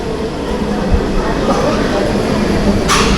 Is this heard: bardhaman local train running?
yes